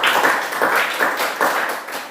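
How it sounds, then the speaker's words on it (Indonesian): Students in a classroom clap together in a short burst of brisk, uneven applause, fairly close and loud, rising and falling in quick waves. "Tepuk tangan dulu buat mereka."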